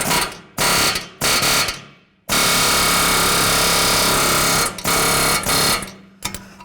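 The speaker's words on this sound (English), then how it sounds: "if you have access to an air chisel with a nice long bit, that'll come in handy" An air chisel with a long bit hammers against a lower control arm ball joint stud on a 2007-2014 Ford Edge, loud rapid bursts of pounding, then one long sustained stretch of chattering impacts.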